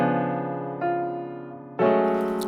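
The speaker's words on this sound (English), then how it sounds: "Without any processing, it sounds like this." A dry, unprocessed Keyscape virtual piano holds one chord, then strikes two new chords in turn, each ringing and slowly decaying, close and alone.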